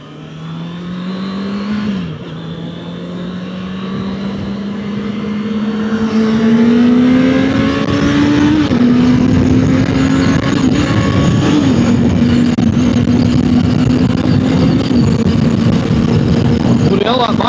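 A fast vehicle roars past close by, its engine note rising steadily in pitch through a loud, continuous acceleration that holds up strongly to the end; a voice speaks over it.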